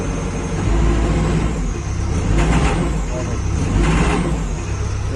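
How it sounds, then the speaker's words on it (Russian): A diesel engine in a 2008 New Holland LB115.B backhoe loader with an engine knock, running steadily up close, swelling slightly in loudness twice as the throttle is raised, with a dense mechanical rumble throughout. "Ну, движок стучит, конечно."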